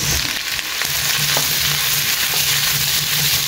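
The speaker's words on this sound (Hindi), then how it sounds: "तर कांदे सोटे जाले न्ही तर घालता हितून पोटेटोज" Potatoes sizzle and fry in a pan with sautéed onions, a steady close hiss with small stirring clatters, no voices.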